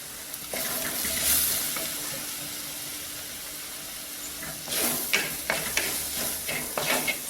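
Spice powders of coriander, cumin, garam masala and turmeric fry in a little oil while stirred over a low flame for paneer masala, a steady close sizzle with scraping stirs growing busier toward the end, no talk.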